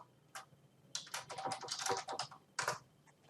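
Quick bursts of keystrokes on a computer keyboard, close and crisp, with short pauses between clusters of clicks and no talking.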